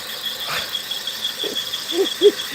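A car engine bay produces faint, high-pitched squeaks like a mouse, a few short chirps rising toward the end over a soft, steady mechanical hum.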